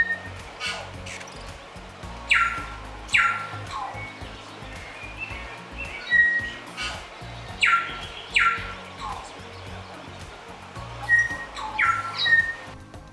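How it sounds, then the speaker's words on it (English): Tomtits and other forest birds call in a New Zealand forest near Christchurch, repeated bright chirps and sharp whistled notes arriving in clusters every second or two over a soft rustling, rumbling background. "there's all sorts of bird calls in the forest, and we're just watching these beautiful tomtits nesting"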